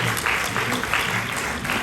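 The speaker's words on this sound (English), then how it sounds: "Hey, the applause is weak, oh, you people" Audience applause for celebrities arriving at an event, a short stretch of steady clapping from the crowd with a few louder pulses, voices faintly mixed in.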